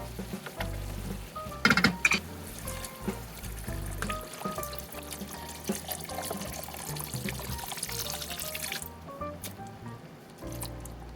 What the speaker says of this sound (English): then we're going to add in the diced tomatoes